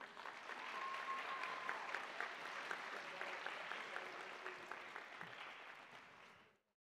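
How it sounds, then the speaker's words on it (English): An audience applauds the parents at a high school senior awards ceremony, a sustained, even wash of many hands clapping at a distance with a few faint voices, then fading out quickly. "A round of applause for your parents"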